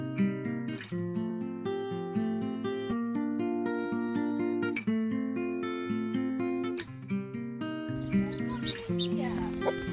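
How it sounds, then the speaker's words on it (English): Ducks at a farm animal sanctuary quack in rapid, overlapping bursts, loud and close, with a steady chorus running throughout and people talking nearby toward the end. "Oh, the ducks like it. They're very happy."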